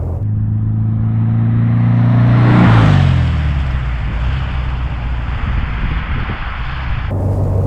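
A black 1964 Porsche 356 C coupé on the move, its engine rising in pitch under acceleration then settling into a loud, steady drone with road and wind rush close by.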